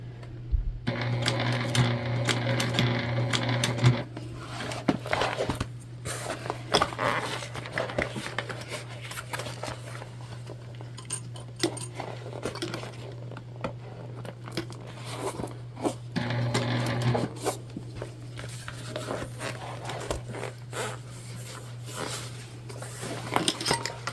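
A sewing machine stitches a large fabric bag in bursts of rapid, rhythmic whirring, with a long run at the start and another midway, separated by quieter handling clicks and rustles close by.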